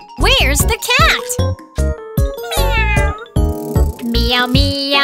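A voice imitates a cat, singing a run of bright, playful meows over a children's song with light jingling music.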